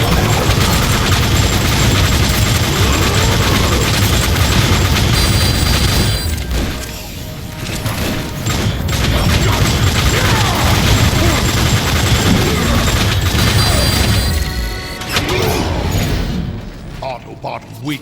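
Gunfire in Transformers: War for Cybertron, dense loud volleys of rapid shots and booming blasts with mechanical clanks, briefly easing mid-way before resuming, with voices over the battle.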